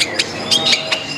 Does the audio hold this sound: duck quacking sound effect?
no